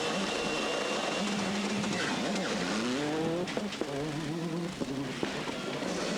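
Works Peugeot 206 rally car at the Rally Monte-Carlo 2000, its engine rising and falling through gear changes with loud, steady roar and brief tire squeals, close and continuous.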